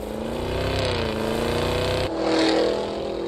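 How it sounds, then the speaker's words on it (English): A 2023 Cadillac Escalade V with a V8 engine hums steadily nearby, its tone rising slightly as it revs, with no talking. "Behold, the 2023 Cadillac Escalade V."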